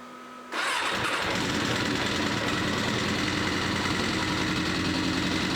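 A Suzuki RF900 motorcycle engine cranks and catches, then runs steadily with a loud, close, continuous mid-pitched drone on choke.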